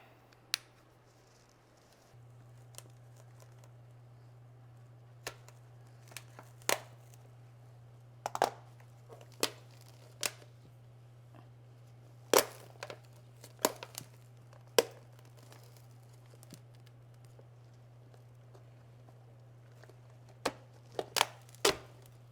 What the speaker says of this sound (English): I think I might just have to cut this pot.